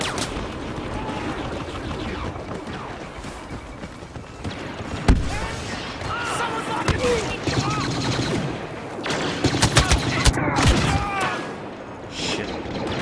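A heavy gun fires repeatedly in the Star Wars Battlefront video game, a dense barrage of blaster shots, impacts and crashes over chaotic battle noise, with sharper bursts near the middle and end.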